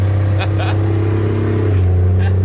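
A car engine hums low and steady as it is given gas, with a slight rise in the motor's drone and voices talking over it.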